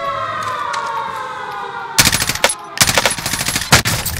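Rapid bursts of automatic gunfire from a Call of Duty Warzone Resurgence match ring out loud and close, starting after a quiet stretch of steady game ambience and breaking into dense volleys with brief pauses.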